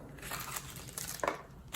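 Plastic bag crinkling around a brass-handled Rough Rider lockback pocket knife, close soft rustles and crackles with a brief sharper crinkle near the end, no talk.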